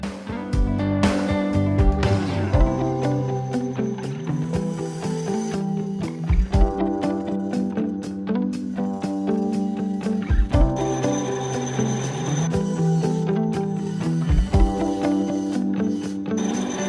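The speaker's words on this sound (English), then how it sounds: "I'll use this to cut off here on the bandsaw, I'll cut that off on the bandsaw." A bandsaw runs steadily while cutting wood for a large glide fishing bait, its motor humming close and loud with shifting tones and occasional knocks as the piece is fed and turned.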